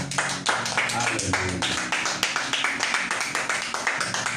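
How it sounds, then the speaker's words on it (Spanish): A church congregation claps together in steady, rhythmic beats, the sound full and close with a dense crowd texture throughout. "Den una ofrenda de aplausos al Rey."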